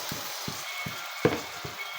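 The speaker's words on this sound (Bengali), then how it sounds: "তো মাছগুলো দেওয়ার পর এখন ভালোভাবে আমি কষিয়ে নেব মশলার সাথে।" Katla fish being fried and stirred in a spice paste, a steady soft sizzle broken by regular low thuds of the spatula about twice a second.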